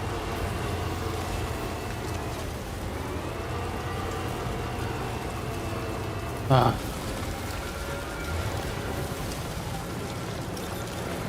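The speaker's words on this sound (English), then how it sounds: "Frickin' rain, man." Steady rain pours down with a constant hiss, a brief knock and a short exclamation from a person partway through.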